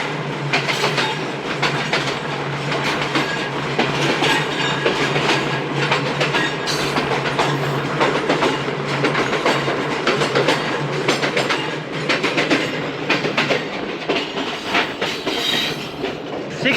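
Shalimar Express train running on rails, a steady loud rumble with rhythmic clickety-clack of wheels over joints and occasional squeals, continuous throughout.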